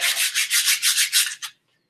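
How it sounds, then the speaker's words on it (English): Hand sanding of a wooden wand: about eight steady, rhythmic back-and-forth rubbing strokes, close and fairly loud, ending abruptly with one short final stroke and then silence. "it's a lot of hand sanding"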